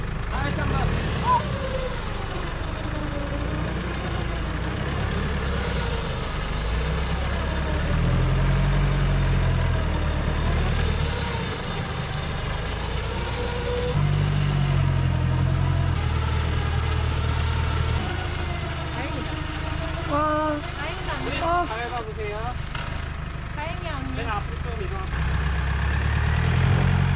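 A Jeep Wrangler idles in first gear as the accelerator is pressed lightly, a steady low engine hum swelling in brief surges, with people talking over it throughout.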